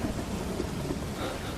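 Heavy rain pours steadily with a low thunder rumble beneath it during a night storm before a dam breaks in a flood, a continuous dense wash with no clear pauses.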